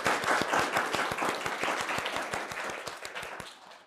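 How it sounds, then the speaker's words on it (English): Enthusiastic applause from a crowd, with steady, dense clapping that gradually fades toward the end. "A round of applause to everyone."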